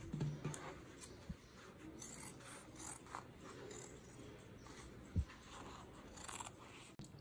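Jeans denim being cut into small squares, with quiet crunchy snips and scraping over a soft background, and a couple of sharper clicks and knocks scattered through.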